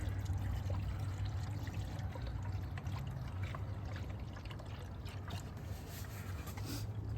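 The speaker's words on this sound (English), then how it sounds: "you're going to be hearing air coming out through, of course, that little bleeder valve over there" Air escapes through the small bleeder valve of a car cooling system while coolant is poured in, producing a steady watery trickling and gurgling hiss that stays fairly quiet and continuous.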